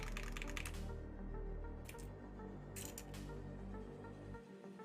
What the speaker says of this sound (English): we're gonna use the DCX keycaps because in my opinion DCX keycaps has the best sound